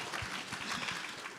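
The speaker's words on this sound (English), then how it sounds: "give yourselves a hand of applause" Audience applause at a Christian worldview film festival, a steady wash of many hands clapping at moderate level with no talk over it.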